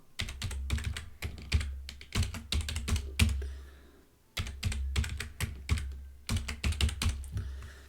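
A new password is typed on a computer keyboard: close, fairly quiet key clicks come in quick irregular bursts, with a brief pause midway and no talking.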